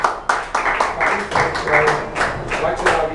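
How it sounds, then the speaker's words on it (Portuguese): A church congregation claps together in a worship service, producing dense, rapid, fairly loud applause with sharp hand-clap attacks repeating throughout, with voices faintly mixed in. "Aplauda o Senhor Jesus"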